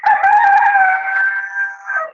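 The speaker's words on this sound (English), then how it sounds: "Although the little black rooster, his crow is getting there now" A small black rooster crows once, loud and close, in a single sustained call that wavers slightly before trailing off, with no talking.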